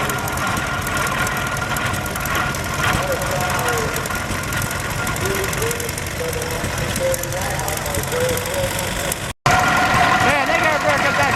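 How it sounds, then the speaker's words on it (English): An old Rumley OilPull tractor engine runs loudly and continuously at a gas and steam engine show, a rough mid-pitched chugging with a brief cut near the end, voices faint underneath. "here's another Rumley oil pull tractor making a lot of weird noises"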